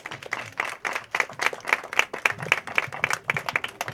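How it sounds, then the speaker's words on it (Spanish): Warm applause welcomes women writers at a university gender-equity workshop in Michoacán; a small audience claps in distinct, fairly quick individual claps that swell and dip steadily for several seconds, with no voices over it. "Démosle una calurosa bienvenida, un aplauso para ellas."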